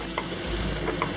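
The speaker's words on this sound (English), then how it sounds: "shallots, ginger, and garlic. And stir this around for about 30 seconds." Onions, shallots, ginger and garlic stir-frying in a pan for Taiwanese beef noodle soup, a steady close sizzle with a few soft scraping stirs, no voices.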